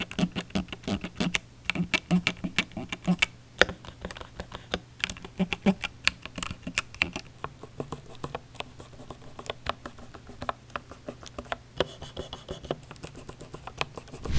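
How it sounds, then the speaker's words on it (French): Fingers rub and tap across Asus keyboard keycaps and then Lambda keycaps bought on AliExpress, making soft, close scratching and clicking in an irregular patter. No one speaks. "Écoutez la différence quand je frotte mes doigts sur ces touches Asus, puis sur ces touches Lambda achetées sur AliExpress."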